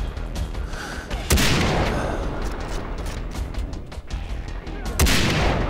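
Gunfire in the video game Far Cry 3, with sharp heavy shots punctuating a continuous rumbling battle din, loud and close, two especially strong blasts standing out.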